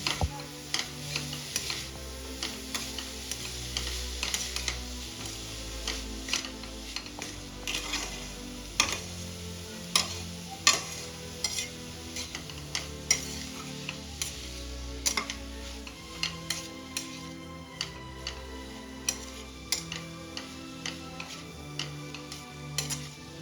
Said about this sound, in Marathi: पनीर आता व्यवस्थित मिक्स करून घ्यायचं सर्व साहित्यामध्ये